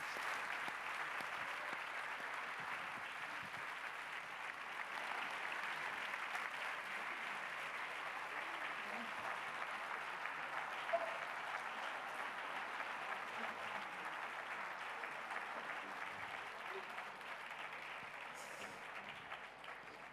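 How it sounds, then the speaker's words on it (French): Audience at a festival debate on sexual violence giving sustained applause, a steady, distant-sounding roar of many hands clapping that holds at an even level for the whole stretch. "je voudrais un tonnerre d'applaudissements pour elles"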